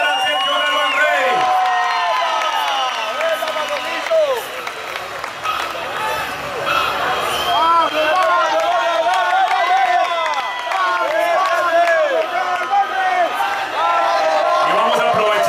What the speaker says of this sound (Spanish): un aplauso para Sergio Galván Rey